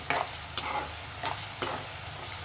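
Onions and green chillies frying in a pan for a tomato curry over medium flame, with a steady sizzle broken by several short stirring scrapes, close and without talk.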